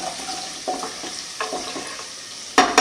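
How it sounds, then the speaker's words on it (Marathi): Garlic frying in a pan, being browned for a dal tempering, gives a low steady sizzle broken by a few stirring scrapes and ends in a louder burst of crackle; no one speaks. "मग लसूण छान गोल्डन ब्राऊन होऊ द्यायचा."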